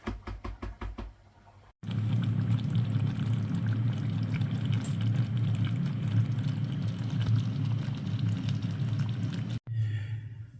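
Food simmering in a pan during a budget Lidl cooking session, a loud, steady bubbling hiss that runs without pause, opening with a few brief knocks, with no speech.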